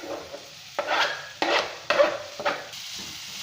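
Finely chopped onion and coriander leaves fry in oil over a low flame for a home-style ridge gourd curry. The sizzle is close and fairly loud, swelling with four or five rhythmic stirring strokes about half a second apart, and no one speaks.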